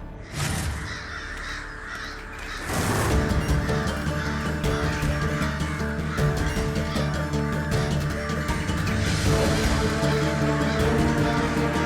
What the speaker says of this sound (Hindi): अरे ये क्या भला, इतने सारे कौवे एक साथ?